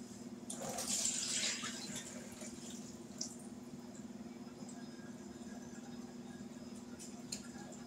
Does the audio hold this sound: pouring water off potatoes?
yes